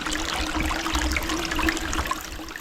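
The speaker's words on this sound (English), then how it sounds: "Got some beautiful babbling brook, I guess is what you call that" A small, clear babbling brook along Holmes Creek trickles steadily and close by, a continuous bubbling wash of water with no voices over it.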